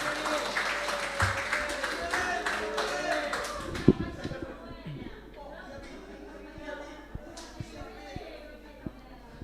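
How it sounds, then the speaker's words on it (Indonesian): An audience at a church youth Bible sermon contest applauds a young preacher, a full round of clapping for about four seconds that fades out as a speaker talks and scattered taps continue. "kasih sekali lagi aplaus untuk Samuel Sembiring"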